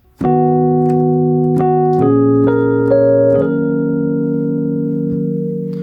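A minor four-five-one chord progression of sustained instrument chords, changing every second or so before settling on a long final chord that rings out.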